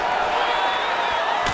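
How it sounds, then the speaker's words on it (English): A UFC arena crowd roars in reaction to a punch during a fight, a steady loud wash of cheering and noise that holds for the whole short moment. "listen to the reaction from the crowd"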